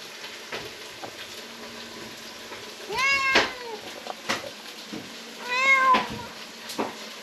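A cat whining with two drawn-out meows a few seconds apart, heard over a soft kitchen sizzle and occasional clatter.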